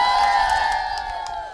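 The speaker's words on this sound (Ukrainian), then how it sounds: "Ваші оплески на стуні." An audience at a village karaoke show in Turka cheers and whoops in a short, loud burst of crowd noise, with some high shouting and a sustained tonal wail running through it.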